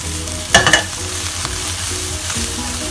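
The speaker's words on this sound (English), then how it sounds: "Next, we add in the spring onion. And then we add in the crab meat. Give them a good stir around." Spring onion and crab meat stirred with egg in a hot pan, a steady sizzle with a couple of sharp scraping clatters of the utensil early on, then continued frying alone.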